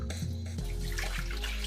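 Water poured from a bottle into a measuring cup while preparing tea, a steady, close, continuous splashing stream with a rising tone as the cup fills, loud and alone.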